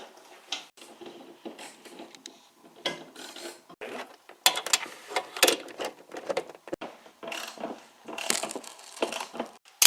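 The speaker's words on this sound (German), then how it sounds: "Jetzt können wir auch die oberen Schrauben noch anziehen" Ratcheting and clanking of tools as the upper bolts on a VW Passat rear shock absorber are tightened, a series of irregular metallic clicks and knocks at close range with short pauses, no talking.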